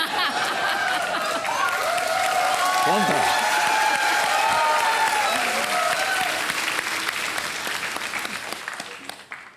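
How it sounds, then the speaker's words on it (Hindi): A studio audience on a television quiz show claps in a sustained burst, the applause mixed with murmuring and a brief spoken exchange before fading away near the end. "तालियों के साथ बहुत सी अन्य आवाजें भी आती रहती हैं"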